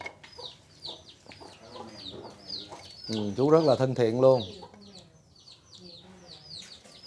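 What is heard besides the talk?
chickens clucking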